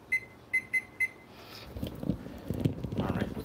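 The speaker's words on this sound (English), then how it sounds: "Set the timer." Kitchen timer beeping four times in quick succession while set during oven cooking of pressure-cooker baby back ribs with BBQ sauce, followed by kitchen clatter and a voice speaking.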